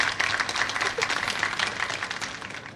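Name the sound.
classroom students clapping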